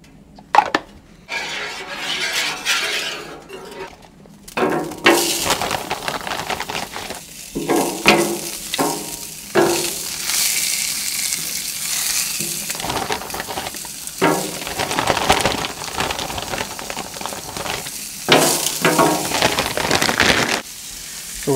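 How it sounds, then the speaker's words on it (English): Sausage sizzles in oil on a low-heat Blackstone griddle, a steady frying hiss with clinks and scrapes of a spatula breaking in now and then. "So we're going to cook our sausage first."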